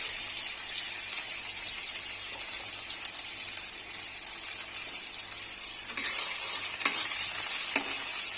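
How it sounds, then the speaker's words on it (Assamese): Chopped onions sizzle and fry in a pan while being stirred, a steady close hiss with occasional scraping clicks of a utensil, no talking. "এতিয়া আমি সৰু সৰুকৈ কাটি ৰখা পিয়াজ ভাজি লম ধুনীয়াকে"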